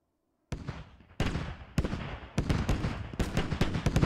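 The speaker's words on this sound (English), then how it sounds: "Oh man, that arty is so close." Artillery shells strike close by in the Squad military shooter game, several loud, heavy blasts arriving in quick succession with booming low rumble and rolling debris between them.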